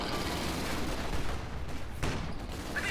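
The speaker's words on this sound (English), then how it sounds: "Using his anti-tank gun" Anti-tank gun firing in a Company of Heroes 2 one-versus-one match, heard as dense battle noise with rumbling, overlapping gunfire and distant blasts in a steady, continuous barrage.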